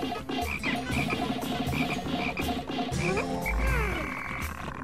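A Wallywog, the frog creature in the Pikmin video game, croaks in repeated pulsing calls over a dense, busy game soundtrack, then gives a sliding, warbling sound near the end, loud and steady throughout.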